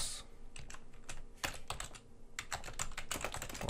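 Keys clatter on a computer keyboard in quick irregular bursts with short pauses, close and clear, with no one talking over them.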